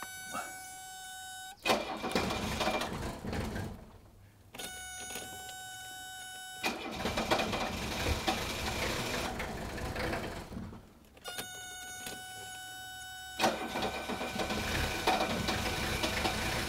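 A 1979 Mercedes 300 SD five-cylinder turbo diesel being started, with repeated bursts of starter cranking and high whining tones broken by short pauses, then a steady running engine, heard close and fairly loud with no talk.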